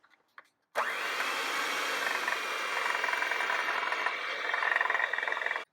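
An electric mixer beats sugar, vanilla and lemon zest for a lemon pudding cake, starting abruptly after a few faint clicks and running as a loud, steady whirring drone for about five seconds.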